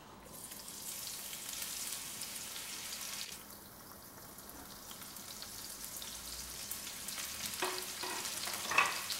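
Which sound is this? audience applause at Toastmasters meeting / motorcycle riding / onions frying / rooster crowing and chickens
onions frying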